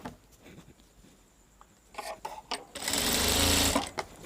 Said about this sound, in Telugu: మన వైపు ఎల్ షేప్లో పెట్టుకొని ఇలా క్రాస్గా ఒక స్టిచ్ వేసేయండి.